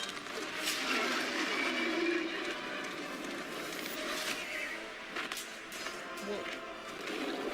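A horse whinnies in a video game demo from the Bethesda E3 2019 showcase, a drawn-out neigh rising over game sounds and hoofbeats while people talk over it.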